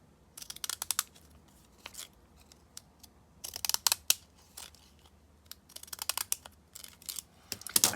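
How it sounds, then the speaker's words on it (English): Small postage stamp scissors with a decorative edge snip through book page paper, giving close, crisp bursts of cutting in irregular clusters, several snips at a time, with no talking. "I call them my postage stamp scissors."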